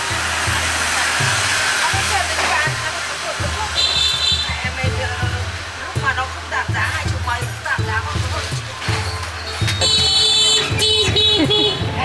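Busy city street traffic in Hanoi, with a dense wash of motorbike and car engines, several honking horns sounding in overlapping bursts, and a steady loud drone throughout.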